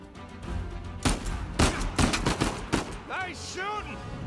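Rapid bursts of gunfire in Uncharted 4, several sharp loud shots in an irregular volley, followed by quick pinging ricochet-like tones.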